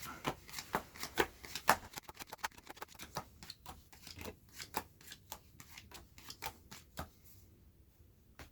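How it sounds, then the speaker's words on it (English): Playing cards are dealt one by one into three piles for a simple card trick, a quick run of crisp slaps and flicks that slows toward the end, close and fairly quiet. "I'm going to deal these cards into 3 piles"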